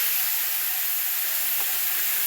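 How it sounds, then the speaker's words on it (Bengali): A tomato, ginger and cumin masala paste fries in a wok, giving off a dense, continuous hiss and sizzle. The sound is close and even throughout, with no talking. "টমেটো, আদা, জিরে সবগুলো দিয়ে দিলাম কড়ার মধ্যে। মশলাটা ভালো করে কষিয়ে নেব।"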